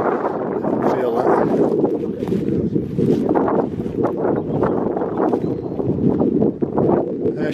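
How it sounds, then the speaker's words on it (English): Wind gusting over the top of an old lime quarry in Wales, a steady close roar buffeting the microphone with rougher rushes throughout. "there's the wind picking up as we go higher"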